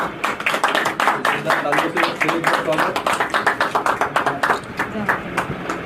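Steady rhythmic clapping from an audience at a Pune office inauguration for Bodhi Tours, brisk and continuous, with someone speaking over it.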